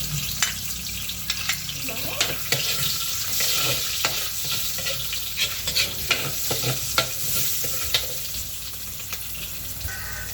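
Onion sautéing in a pan for ginisang upo with chicken, a steady close sizzle broken by repeated sharp clicks and scrapes of a spatula stirring, with no one speaking.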